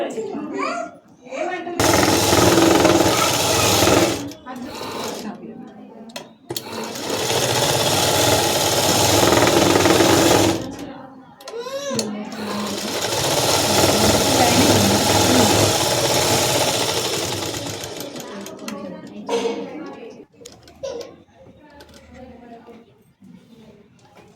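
A sewing machine stitches the front and back pieces of a frilled frock together in three long, loud, whirring runs of rapid stitching, each a few seconds long, with someone talking in the pauses between them.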